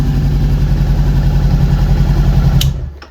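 A 2018 Honda CBR 500R motorcycle with an aftermarket exhaust idles close up, a loud steady throbbing rumble that drops away sharply near the end.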